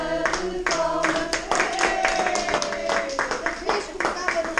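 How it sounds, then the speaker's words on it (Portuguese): Applause breaks out at a birthday party: a crowd of hands claps in quick irregular bursts, close and lively, while voices talk and call out over the clapping throughout. "Uma salva de palmas."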